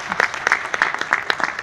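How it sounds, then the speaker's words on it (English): Applause at a Rotary Club meeting, a small group clapping in a quick, uneven rhythm of distinct hand claps, close and brief. "Give him applause."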